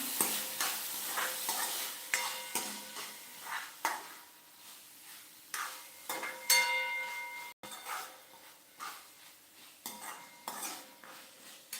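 Moth beans are stirred in a pan in a steady run of metal scrapes and clinks, close and fairly loud, over a light frying sizzle with no talking.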